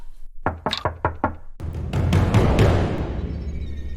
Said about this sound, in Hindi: थोड़ी देर के बाद किसी ने दरवाजा खटखट किया,